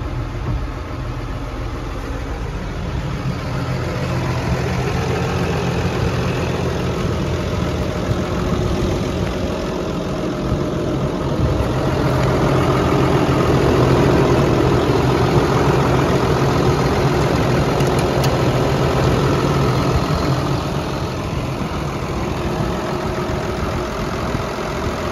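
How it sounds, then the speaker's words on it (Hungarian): Case IH Puma 150 tractor with a 6.7-litre FPT diesel engine idling steadily, a continuous low rumble close by with no talk. "Traktorban egy 6728 köbcentis FPT motor van, 150 ló leadására képes"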